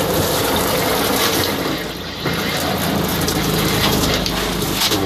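Antifreeze gushes out of a motor home shower faucet in a steady, dense hiss of running liquid, close by, with one brief dip before the flow resumes.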